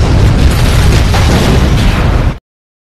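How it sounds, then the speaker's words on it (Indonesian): A loud, dense explosion blast in a film, a mafia henchmen's bombing of a building, roaring continuously at full strength for over two seconds before cutting off abruptly. "2 anak buah Garcia pun meledakkan tempat tersebut."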